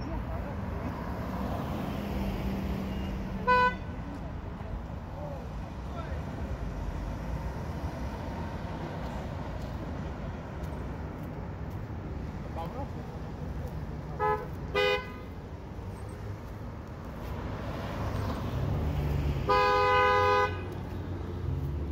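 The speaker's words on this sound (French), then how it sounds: "Taxi qui klaxonne très fort." Taxi horns honk in short repeated blasts over steady traffic rumble near a motorway exit during a power cut, with a longer, louder honking burst near the end and some talk in the background.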